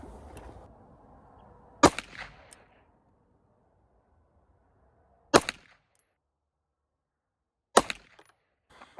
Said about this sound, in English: So I'm going to give her one more 3-shot group with the Hornady XTPs.